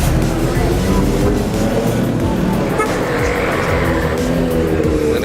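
A Nissan GT-R at an outdoor car meet drives past close by with a loud, continuous engine roar and tire noise that fills the whole stretch, with crowd voices mixed in.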